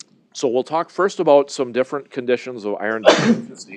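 Someone speaks in a calm lecturing tone during a medical biochemistry lecture on iron metabolism, then a single sharp sneeze bursts out near the end, cutting across his speech.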